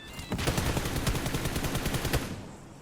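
Rapid automatic gunfire in a shooter video game, a loud burst of closely spaced shots lasting about two seconds, then cutting off into near silence.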